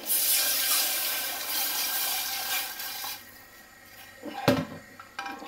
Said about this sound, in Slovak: Zalejeme to tým litríkom vody zhruba.